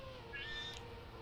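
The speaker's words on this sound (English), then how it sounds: "I'm sorry if you guys hear meowing, but the cat woke up." A house cat gives a single short, faint meow in a quiet room, with no talk around it.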